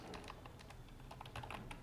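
Quiet, irregular key clicks from a computer keyboard during a Dockerfile editing session, light taps scattered closely together with brief pauses, no voices.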